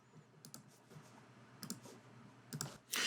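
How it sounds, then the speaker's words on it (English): A computer mouse clicks a few times, sharp quiet taps spaced out over a faint room hiss, the last click slightly louder, with no voices. "clicking on File, New Project."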